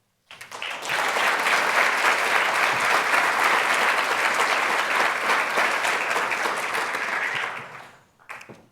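Loud, sustained audience applause swells quickly, holds steady for several seconds, then fades, followed by a brief final burst of clapping.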